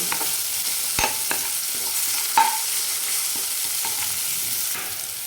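Chili is sautéed in oil in a pan, giving a steady, close sizzle with a few sharp clicks and taps of stirring, and no voice over it.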